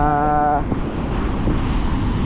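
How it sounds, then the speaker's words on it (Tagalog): Surf at high tide breaks against the shore at Bucana, a continuous loud wash of rolling water and wind noise; a brief voice-like tone opens the moment before the surf takes over. "So ngayon maabot na rito ang hampas ng alon"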